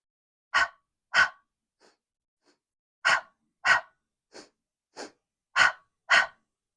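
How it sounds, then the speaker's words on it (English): Sharp, forceful breaths in quick pairs, two inhales through the nose and two exhales through the mouth, with a steady rhythm and brief pauses between sets, close and clear with no talking. "It's 2 inhales through the nose, 2 exhales through the mouth."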